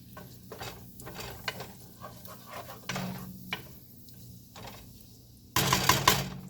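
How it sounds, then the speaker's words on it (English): Rice with minced garlic is stirred and browning in a pan for Mexican fried rice, giving a quiet, intermittent scraping and soft sizzle with a louder stirring burst near the end. "Give that a little bit of a stir, let it brown a little bit."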